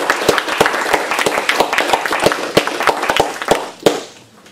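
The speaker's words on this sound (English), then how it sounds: "an applause for Laura" Applause from a small audience after an academic talk, sparse individual claps at a moderate distance that thin out and fade toward the end.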